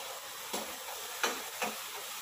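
Onion, garlic and ginger fry in a pan with a steady close sizzle, broken by three brief scraping stirs.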